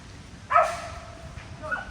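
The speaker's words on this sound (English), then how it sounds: "See, you can hear one of the dogs. It's a golden retriever." Golden retriever outside a pagoda gives one clear bark followed by a fainter whining yelp, moderately distant over quiet outdoor background.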